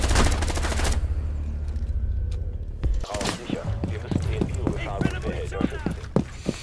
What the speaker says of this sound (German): Kalle legt den Controller hin und gibt einen Schuss ab